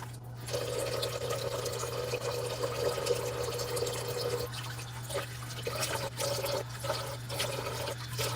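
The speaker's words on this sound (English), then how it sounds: "I'm going to go ahead and wash my face with the facial cleanser" Tap water runs steadily into a sink while a face is washed with facial cleanser, a continuous splashing stream with a few brief interruptions and drips toward the end, close and moderately loud.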